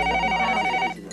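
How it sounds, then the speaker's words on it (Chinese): A telephone rings indoors during a 2000 interview: one short, bright burst of ringing that stops abruptly. "等，我听一下电话哈。"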